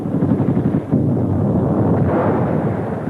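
Battle gunfire from 1943 wartime newsreel footage, a dense rumble of booming shots and blasts rolling continuously for a few seconds, muffled and loud with no voice over it.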